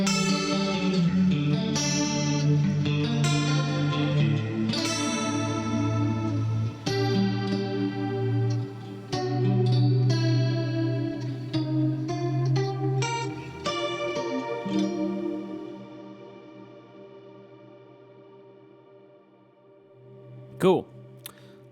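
Strat-type electric guitar played through an Axe-Fx III tri chorus preset with everything on, giving shimmering, wide, warbling chords and single notes that ring out and fade, with a brief pickup scrape near the end.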